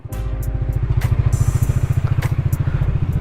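An FKM Slick 400 maxiscooter engine starts and settles into a loud, close, steady idle with a fast rhythmic thumping pulse while warming up, with no voices.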